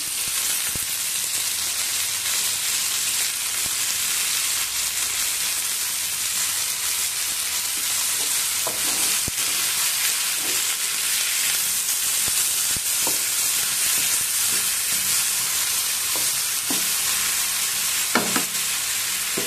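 Sour greens from a home garden dropped into a pan with lightly browned onion and garlic, frying with a loud, steady sizzle and hiss throughout, broken by occasional stirring clicks.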